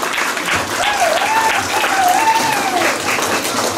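An audience at a school launch ceremony at SK Tagaroh applauds, steady loud clapping filling the hall, with a faint whistle-like tone rising and falling briefly through the middle.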